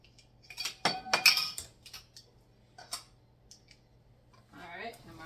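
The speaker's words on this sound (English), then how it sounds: "So let me get my lids." Metal canning jar lids clink and rattle sharply as they are picked up and handled on a kitchen counter for preserving red beans and ham, in several bright bursts with a low hum beneath.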